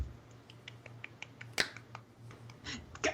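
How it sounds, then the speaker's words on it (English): One sharp, bright clap stands out against a quiet room with a few faint taps and clicks around it. "He deserves more than one clap."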